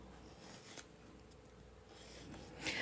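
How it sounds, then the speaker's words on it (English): A 240 grit Gems nail file rasps softly back and forth along the free edge of a nail, a faint, close, continuous scratchy rubbing with no talking. "So I'm using the 240 grit Gems nail file."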